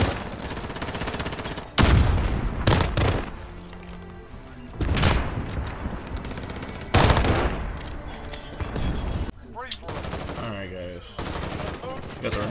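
Gunfire from the Damascus pistol in Call of Duty Modern Warfare, several loud sharp shots in irregular bursts, close and punchy, with game sounds and occasional talk between shots.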